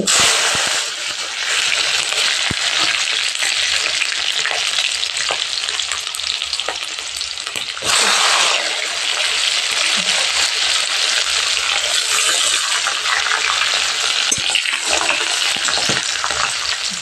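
Mustard seeds and fenugreek fry in hot oil for garlic kuzhambu, a steady loud crackling sizzle with scattered pops and spatters that continues close up throughout, with no talking.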